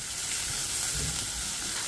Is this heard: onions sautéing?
yes